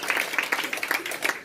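An audience breaks into steady, dense applause after a song at a Korean talk event, a close crackling wash of many hands with faint rises and dips and no voices on top.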